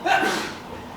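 A single short sneeze during an indoor podcast conversation, a sharp close burst that fades within half a second.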